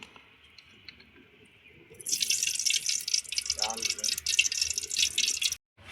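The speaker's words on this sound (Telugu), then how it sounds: "ఇప్పుడు కొంచెం నూనె పోసుకుందాం" Oil pours into a pot for chicken curry cooked outdoors under a tamarind tree, a close liquid splash and gurgle starting partway in over faint background voices, then cutting off abruptly.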